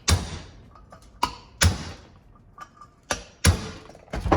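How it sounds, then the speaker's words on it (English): Sharp metallic whacks on a socket held over engine valve-spring keepers on an aluminum 5.3 LS cylinder head, about six close, distinct hits spaced irregularly with faint ticks and quiet gaps between. "Grab a socket that's bigger than the diameter of the keepers and stuff, and just give it a whack."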